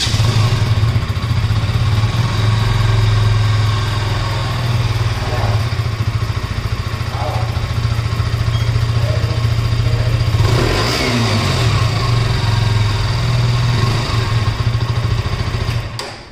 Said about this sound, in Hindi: काफ़ी बढ़िया एग्जॉस्ट नोट है इस बाइक का।